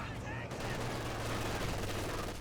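Light machine gun bursts from advancing German Grenadiers in Company of Heroes 2, a dense, continuous rattle of gunfire with battle noise layered underneath, loud and sustained throughout.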